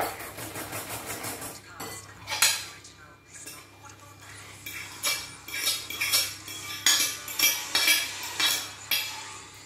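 Pumpkin pie batter being mixed in a bowl, with repeated clinking and scraping strokes of a utensil against the bowl in an uneven rhythm, growing busier toward the end over a low steady hum.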